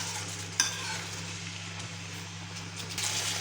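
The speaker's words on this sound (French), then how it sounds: "je relaisse mijoter pendant quelques minutes, le temps que la tomate cuit avec la viande hachée, les oignons et les épices" Ground beef simmering in a pan with tomato, onions and spices, a soft continuous sizzle and bubbling with a low steady hum beneath, one brief knock near the start, quiet and close.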